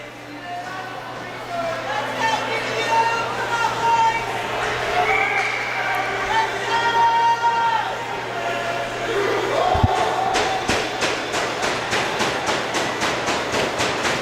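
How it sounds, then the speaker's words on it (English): The senior student section roars and chants at a DBU versus Nebraska hockey game, a dense crowd din with shrill tones and rhythmic claps or stomps toward the end, all beneath an announcer's ongoing play-by-play. "The senior section trying to urge DBU, trying to cheer him on to get that equalizer goal"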